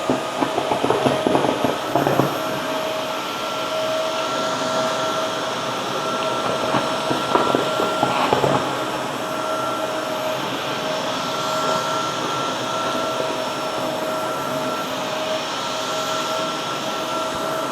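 A Roborock F25 wet dry mop vacuum runs continuously across a floor, cleaning up a heavy amount of dirt, its high-pitched motor whine and suction drone loud and steady with brief louder surges near the start and middle.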